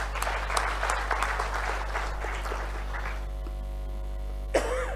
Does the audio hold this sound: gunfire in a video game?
no